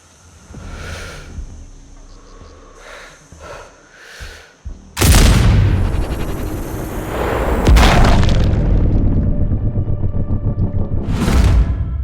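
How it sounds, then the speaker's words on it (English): A loud explosion in the Sniper Ghost Warrior Contracts 2 video game erupts as a sudden broadband blast, followed by a second heavy boom and a long rumbling tail, with a few softer blasts heard before it. "I heard an explosion."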